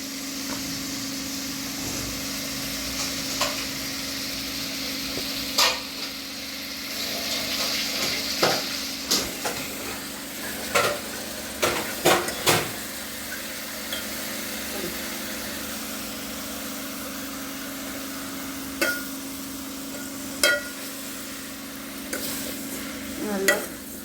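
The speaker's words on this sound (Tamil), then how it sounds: "எண்ணெயில் நல்லா கொஞ்சம் கீரை வதங்கணும்." Ponnanganni greens stirred into oil with softened tomatoes, a low sizzle under a faint steady hum, punctuated by clusters of loud spatula clacks against the pan.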